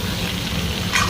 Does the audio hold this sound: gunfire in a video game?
no